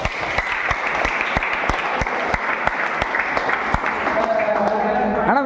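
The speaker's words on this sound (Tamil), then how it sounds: "அதுக்கே ஒரு பெரிய கைத்தட்டல் கொடுக்கலாம்" An audience gives a big round of applause, steady close clapping with distinct sharp individual claps, while a voice talks over it.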